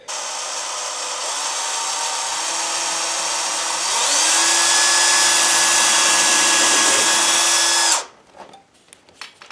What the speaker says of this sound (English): And now we're going to drill that second hole right up here.